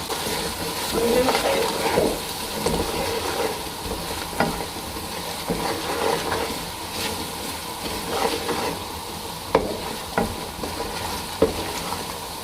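Steady sizzling of garlic and spices frying in a hot pan, with occasional stirring scrapes and soft clicks, close and continuous.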